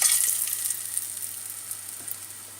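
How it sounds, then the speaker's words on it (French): Tofu and soya pakoda batter sizzles steadily in hot oil, a bright continuous frying hiss that fades slightly over a few seconds with small crackles, no voices. "L'huile est bien chaude, donc on peut commencer à mettre le premier morceau de..."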